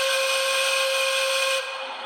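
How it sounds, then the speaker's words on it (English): Russian-style whistle on a Piko M44 model locomotive in MAV livery, one sustained, steady, shrill tone held loud and close for over a second and a half, then cutting off abruptly. "Now they also have the whistle that I normally see or hear in Russia."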